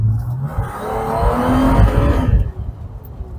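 A modified 2014 Toyota FJ Cruiser accelerates hard, its engine note swelling loud and close for a few seconds with a hint of tire noise, then easing off toward the end.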